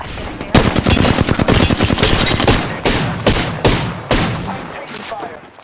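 Rapid automatic gunfire in the shooter game Apex Legends, close and loud, comes in dense rattling bursts separated by brief pauses.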